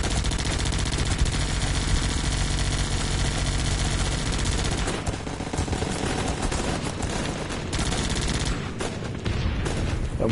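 Fireworks in a demo crackle and pop in a dense, continuous barrage of rapid bursts, loud and sustained with brief drops in intensity and no voices over them.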